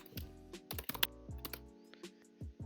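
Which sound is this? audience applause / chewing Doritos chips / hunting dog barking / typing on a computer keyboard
typing on a computer keyboard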